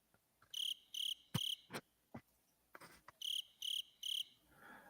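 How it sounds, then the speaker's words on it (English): Crickets chirp in a brief sound-effect insert, the trills arriving in short regular bursts of three with gaps between, loud and close, mixed with a few clicks and knocks and no talking. "Crickets."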